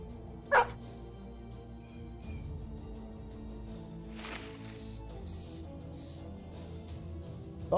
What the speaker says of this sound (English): Ooh, and dogs. Loads of dogs.